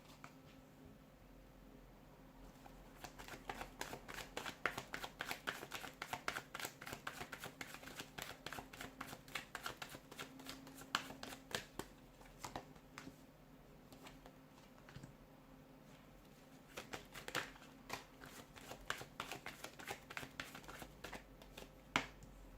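Tarot cards are shuffled by hand in repeated bursts of crisp riffling and flicking, stopping and restarting several times at close range with no talking.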